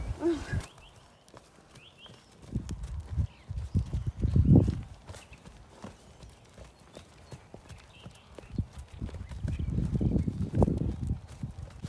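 Working pony hooves clip-clop in irregular bursts on a hard surface at a stable, growing louder midway and again near the end, with light ambient noise between.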